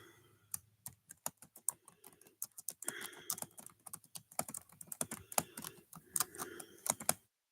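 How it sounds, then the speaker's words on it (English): Typing on a computer keyboard, with quick clusters of light, close key clicks that grow denser and louder toward the end, and no voices. "In fact, I'll type it in."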